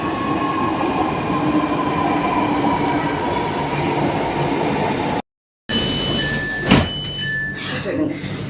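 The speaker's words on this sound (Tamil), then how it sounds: "மீனம்பாக்கம் ட்ரெயின் இந்த வருது பாருங்க." A suburban train rumbles steadily into Meenambakkam station in Chennai, then after a brief cut come squealing brakes, door sounds and faint voices on the platform.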